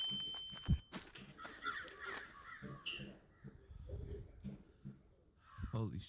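Crows caw in the horror video game In Silence, a few harsh calls spread across a quiet stretch, mixed with scattered footsteps and faint in-game rustling.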